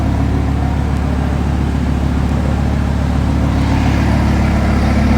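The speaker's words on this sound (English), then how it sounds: "the amazing revving sound of the Lamborghini Huracan Spider" A Lamborghini Huracan Spyder engine idles loudly and steadily with a deep, pulsing low rumble throughout, close by and continuous.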